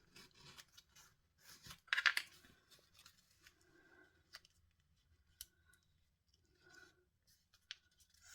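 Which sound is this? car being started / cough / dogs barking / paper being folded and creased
paper being folded and creased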